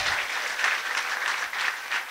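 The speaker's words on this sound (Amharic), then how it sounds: "እስቲ አጨብጭቡ ለኢየሱስ" Congregation at a prophetic church service clapping together for Jesus, loud rhythmic bursts of many hands swelling and easing in waves, alone without talk.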